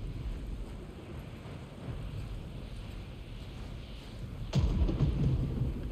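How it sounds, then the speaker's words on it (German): Thunder in the video game God of War Ragnarök, a low distant rumble under wind and rain noise that swells into a louder, closer crack and roll toward the end. "Das ist nur Donner."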